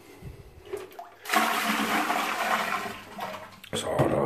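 Wash water from hand laundry is poured out in a loud, rushing gush lasting a few seconds, with faint voices before it.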